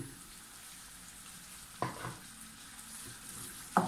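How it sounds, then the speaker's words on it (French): Ground beef filling for a potato and beef pie sizzles softly in a pan, with a steady low fry and two sharp scraping stirs of a utensil against the pan, one near the middle and one at the end. "Allez, on mélange et on poursuit la cuisson encore quelques minutes."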